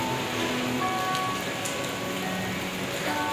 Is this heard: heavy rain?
yes